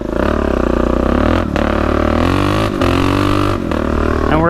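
A DRZ dirt bike engine runs loud and close on a trail ride, a steady throaty drone that rises and falls with throttle, broken by a few brief dips.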